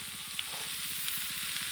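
Bottle gourd sautés in a hot pan with a steady, close crackling sizzle and faint occasional stirring clicks, no voices.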